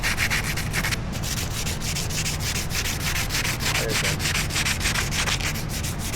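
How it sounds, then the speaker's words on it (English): Sandpaper of 180 grit rubbing over a custom Harley exhaust, a loud continuous scratchy rasp with quick back-and-forth strokes, close and steady throughout with no talking. "so we got 180 grit, made in Germany. All right, so sand her down."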